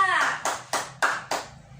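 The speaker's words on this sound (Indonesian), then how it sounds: "Beri tepuk tangan untuk kelompok A" A class of students in a school classroom claps briefly for a student group, five or so quick rhythmic hand claps, close and moderately loud.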